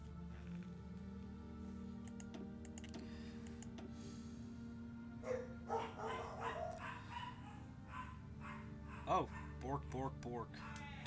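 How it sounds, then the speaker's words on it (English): Dogs barking in a room behind game background music, several short sharp barks in the later half, close and fairly loud, with someone talking over them. "Please excuse my dogs,"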